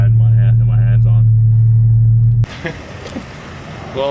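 A Porsche Cayman fitted with a Soul Performance exhaust holds a loud, steady droning rev close by for about two seconds, then cuts off to quieter road rumble and faint background noise.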